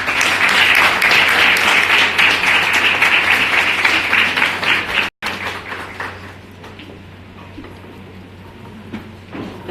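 An audience at a dancehall event applauds loudly with dense clapping, which cuts off abruptly midway and gives way to a quieter room with scattered faint sounds.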